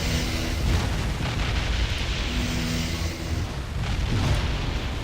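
Spaceships are destroyed in the space strategy game Distant Worlds Universe, with rumbling explosions and booms rolling continuously under a dense, loud low roar, and no talk.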